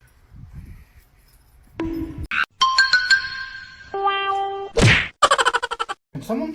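A ding-dong chime in a clip of cats and dogs, heard as a series of bright, tonal electronic tones mixed with sharp thwacks and knocks, followed by a rapid run of rhythmic clicks.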